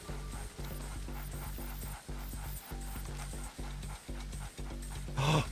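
Dogs in the stealth video game Splinter Cell panting and huffing in quick repeated bursts, with brief pauses between breaths and a louder sniffing rush near the end, heard alone without talk.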